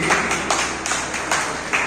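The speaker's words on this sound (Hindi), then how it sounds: "एक बार जोरदार तालियां उनके लिए जरूर बजनी चाहिए" Audience applause at a hospital-supported event hall, a broad sustained wash of clapping from many hands, loud and continuous with slight swells throughout.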